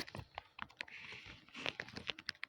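Quiet keyboard typing while playing a video game, scattered soft key clicks in short irregular runs, close but faint, with no voices.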